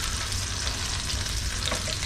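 Chicken frying slowly in a pan to a crisp produces a dense, constant, close crackling sizzle with no pauses or talk.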